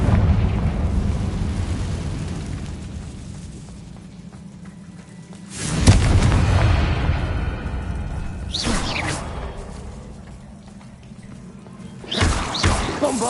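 Confringo spell explosions in the Hogwarts Legacy video game, several heavy bursts: a loud blast with a rumbling tail near the middle, then two more, sharper ones later, over low background game ambience.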